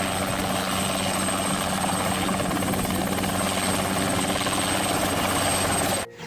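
A toy helicopter whirs with a steady, even drone that holds at constant loudness for about six seconds, then stops abruptly; no one speaks.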